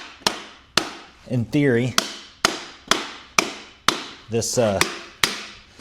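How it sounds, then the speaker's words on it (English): Sharp hammer blows strike parts of a custom modular overland storage box, nine or so evenly spaced hits close up, with brief speech between two of them. "I'm gonna hammer this in"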